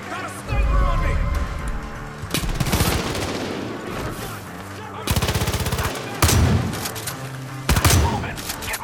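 Gunfire in the Far Cry 5 shooter, loud and close: bursts of rapid automatic shots and sharp single cracks in quick succession, with voices talking between them.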